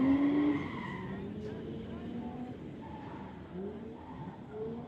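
Drift cars, including a Nissan 240SX, skidding at an outdoor car show event, with loud tire squeals and engine whine that fade into repeated squealing slides, and an announcer talking over it.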